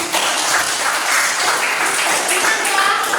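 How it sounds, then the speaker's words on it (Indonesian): A classroom breaks into dense applause during a teaching practice lesson, steady and loud clapping from many hands sustained for about three seconds. "kita kasih tepuk tangan dulu."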